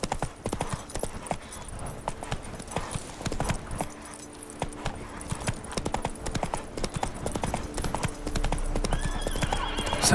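Roach, a horse in The Witcher 3, gallops with rapid, steady clip-clop hoofbeats close by, and neighs partway through, with game ambience underneath.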